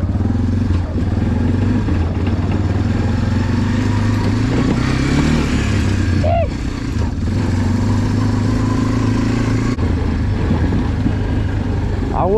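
A four-wheeler ATV engine runs steadily and loud after cranking, its low drone holding throughout with a brief dip in the middle and some clatter on top.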